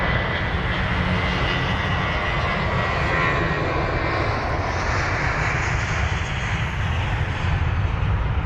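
A British Airways Airbus A320 in oneworld special livery takes off from London Heathrow, a loud, steady roar of jet engines filling the air without a break.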